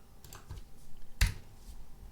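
Scattered keystrokes clack on a computer keyboard at close range, with one sharp, louder tap standing out among the lighter typing.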